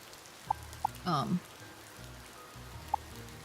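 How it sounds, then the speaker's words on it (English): Steady rain patters in the video game Ova Magica, a soft constant hiss with a few sharp drip-like clicks and a brief louder splash near the middle. "obviously I know it's raining now"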